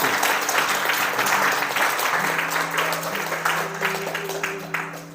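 A church congregation claps loudly and steadily, the applause slowly tapering off, with some voices and a sustained tone beneath.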